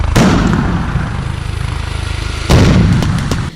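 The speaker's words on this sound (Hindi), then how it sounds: "इशारा मिलते ही उन्होंने ताबड़तोड़ गोलियां बरसानी शुरू कर दी।" Serbian armored vehicles fire during an army exercise: a loud, dense rattle of rapid gunfire sustained for several seconds, with a sharp fresh burst partway through, heard close and alone.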